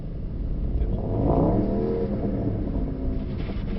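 A Mercedes-AMG GT63 Pro engine revs up on a race track, climbing in pitch and holding a steady growl before easing slightly, loud and continuous.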